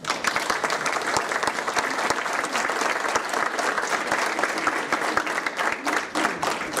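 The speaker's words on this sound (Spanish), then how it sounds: "a cargo del doctor José Woldenberg, para quien les pido un fuerte aplauso." A lecture-hall audience at a conference on policy to defuse violence gives sustained, dense applause of many hands, steady and loud throughout with no pause.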